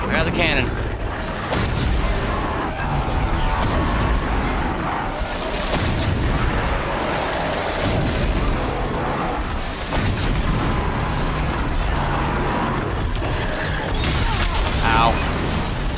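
A heavy cannon fires repeatedly in the video game Horizon Zero Dawn, giving loud booming blasts and mechanical clanks over a dense, noisy battle, with a player talking at times.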